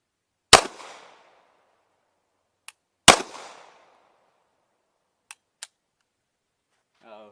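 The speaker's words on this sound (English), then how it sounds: "Oh, got to click, no bang." A Cobray M-11/9 pistol fires two sharp reports with short echoing decays, followed by a few faint dry clicks from a misfire, with a brief voice murmur at the end.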